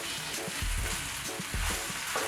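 Raw shrimp are tossed into spicy fried rice in a hot pan, giving a steady loud sizzle with two brief surges of frying as the food lands and is stirred; no voices.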